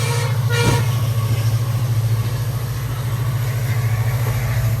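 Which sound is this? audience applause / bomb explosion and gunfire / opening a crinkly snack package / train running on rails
train running on rails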